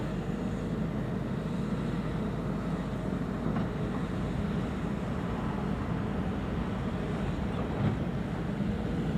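A Boeing 737-800 arriving at Schiphol's Polderbaan runway, a continuous distant broadband roar of jet engines with faint wind noise, steady throughout and without voices.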